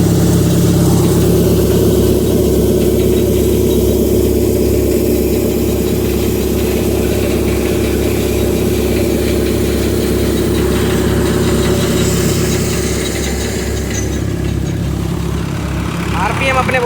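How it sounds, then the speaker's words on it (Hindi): A Sonalika 750 tractor engine runs steadily at low revs while driving a cutter threshing lentils, a continuous deep rumbling drone with mechanical vibration, close and constant. "सरसों की तरह ही धीरे धीरे ये ट्रैक्टर चलाया जाता है"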